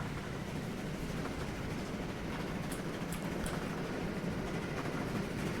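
A steady, low rumble of a passenger train rolling along rails in a railway-building video game, with faint rhythmic clatter throughout and a few light higher clicks, continuous and moderately distant.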